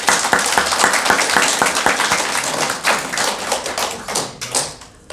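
A church congregation claps in thanks for its elders, loud close rapid clapping that thins out and fades toward the end.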